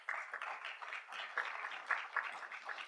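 An audience at an Evanston public hearing on education bursts into a short round of applause, a steady patter of many hands clapping at moderate distance for about three seconds.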